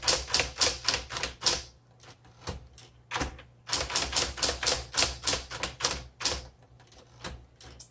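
A 1968 Smith Corona Electra 120 electric typewriter types in quick bursts of sharp, loud key strikes with a constant motor hum underneath, pausing briefly between runs.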